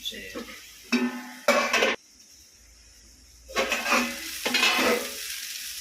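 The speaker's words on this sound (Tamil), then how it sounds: "ஒரு 4 வாட்டி திறந்து கிளறி விட்டேன்." Okra stir-fry (vendakkai poriyal) stirred in an oiled pan, with a few bursts of spoon scraping and clinking against the pan separated by quiet pauses.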